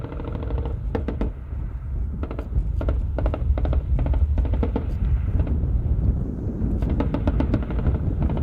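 Military exercise with coordinated gunfire as armoured vehicles advance: a steady low engine rumble throughout, punctuated by repeated sharp bursts of shots in quick clusters, fairly loud and continuous over several seconds.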